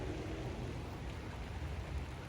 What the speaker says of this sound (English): I'm out here in the rain, but I don't care.